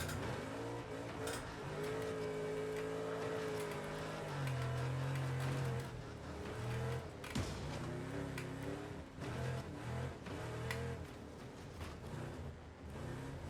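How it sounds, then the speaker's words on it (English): A racing car in Wreckfest 2 revs its engine hard through a handbrake turn, the loud engine drone rising and falling with brief tire scrapes and impacts, continuous throughout, with no speech. "I am going to handbrake right here."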